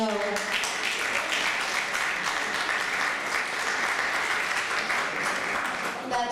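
Sustained audience applause at a world peace Earth Day celebration in New York City, steady and dense for several seconds after a performance, with faint voices mixed into the crowd.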